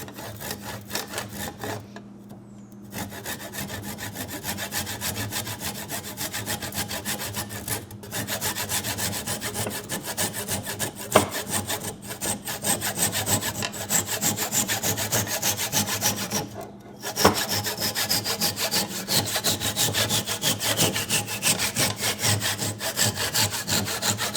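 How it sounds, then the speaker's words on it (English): A fine-tooth hand saw, such as a Japanese pull saw or miter box saw, cuts through a wooden sledgehammer handle in steady back-and-forth strokes, close and continuous for over twenty seconds with brief pauses. "you do want to make sure it is a fine tooth saw, so something like a Japanese pole saw or a miter box saw works really good for this step"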